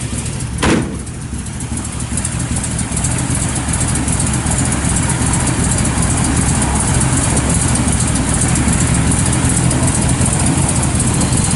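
A 1955 Chevrolet 3100 shortbox truck engine with headers and dual exhaust fires up and then idles steadily, with a loud, continuous low rumble close to the listener.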